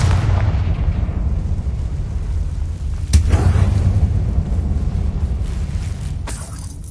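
A Confringo blasting spell bursts in Hogwarts Legacy with one sharp explosive crack near the middle, then a second smaller burst near the end, both over a steady low rumbling game backdrop.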